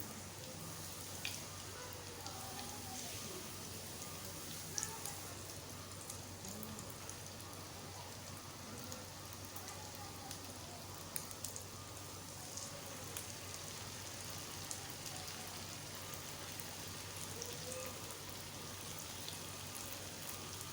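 Bite-sized chicken pieces frying in hot oil over a medium flame, a faint steady crackling sizzle with scattered small pops throughout, no talk.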